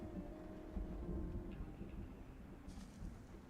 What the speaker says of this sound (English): Big storm a brewing, it sounds like.